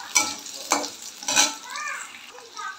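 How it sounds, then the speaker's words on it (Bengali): Potato pieces fry in a pan, giving a steady hiss with a few louder scraping bursts from stirring and a softer, wavering sizzle in between. The sound is close and moderately loud, with no talk. "আর আলুগুলো একটু লাল লাল করে ভাজা হচ্ছে দেখো।"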